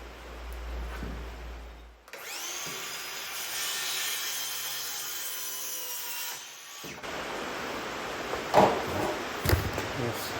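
Saw cutting a wooden board for a barn door build in a home shop, a steady rasping stroke running several seconds at close range, followed by scraping and a few knocks.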